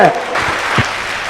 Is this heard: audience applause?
yes